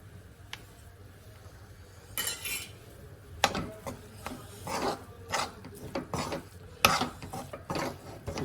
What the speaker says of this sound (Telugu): ఇప్పుడు కొద్దిగా తరిగిన కొత్తిమీర వేసుకుందాము.